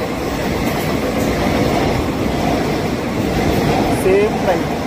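Inside the 12787 Nagarsol superfast express on the move, a loud continuous rumble of wheels and carriage fills the whole stretch, steady and close, with faint talk.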